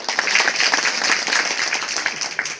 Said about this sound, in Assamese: তেখেতৰ বাবে এখন হাত চাপৰি